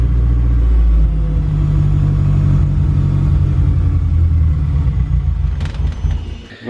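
A Mazda RX7 FD fitted with a Honda K-series engine idles at about 1800 RPM, a loud, steady, close rumbling drone that wavers slightly and dips near the end, with a brief clatter.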